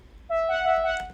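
A single sustained synth tone from a Fraxel sample kit, with a bright stack of harmonics, enters cleanly and holds steady for about a second at moderate loudness, alone with no voice.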